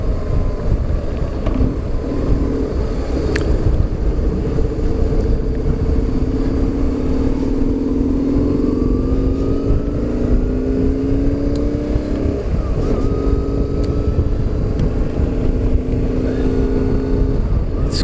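A BMW R850R motorcycle rides along a cold, near-freezing road, its engine a steady low drone with rising and falling tones as it shifts and accelerates, under constant wind rush for the whole stretch.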